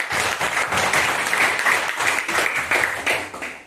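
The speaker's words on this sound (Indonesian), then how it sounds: "tepuk tangan untuk ini" A classroom group claps together briefly, a few seconds of brisk, slightly uneven applause with some rhythmic pulses, fairly close.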